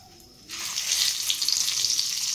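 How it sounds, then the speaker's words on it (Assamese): Spiced stuffing with turmeric and a pinch of salt, meant for stuffed pointed gourd, drops into hot oil in a wok, and a loud, close sizzle erupts suddenly after a quiet half second, then crackles on steadily. "এতিয়া এইখিনি ভজা হ'ব"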